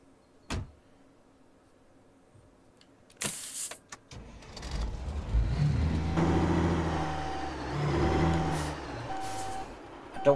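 A truck engine in the video game Alaskan Road Truckers, starting with a few clunks and a hiss, then rumbling and revving up as it drives off, with no talking.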